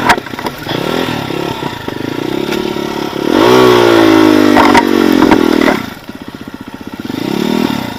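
A motorcycle engine revs hard and climbs in pitch during an off-road trail event in a forest, loud and close, then drops back to a steady idle.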